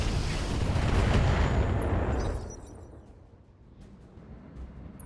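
An Ultra AC5 autocannon fires in the video game RogueTech: a loud, dense burst of booming blasts lasting about two seconds, then a quieter rumbling tail.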